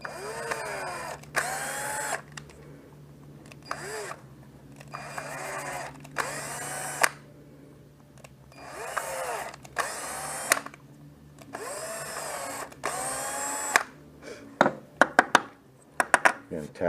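Threads being tapped into an aluminum axle tube with a power drill, several short whirring bursts of a few seconds each with pauses and metallic clicks between, close, with a person talking at times.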